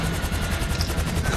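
A helicopter in the video game GTA V thrums with loud, steady rotor pulsing and a dense engine roar, close and continuous with no talk over it.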